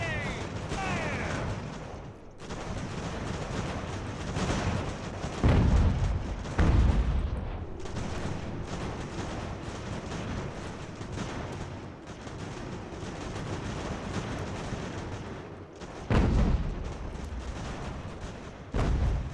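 Musket volleys in Ultimate General: American Revolution: a steady rumble of massed fire with several heavy, booming bursts standing out, mixed with a voice calling over the din.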